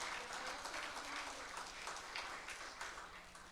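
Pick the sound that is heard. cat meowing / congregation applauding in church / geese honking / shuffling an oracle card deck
congregation applauding in church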